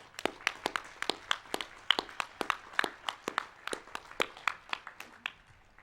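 Scattered claps from a modest audience at a Harvard Business School Class Day ceremony, honoring graduates' families; about twenty distinct, sharp hand claps in an irregular, fairly sparse rhythm, moderately near, with no voices over them.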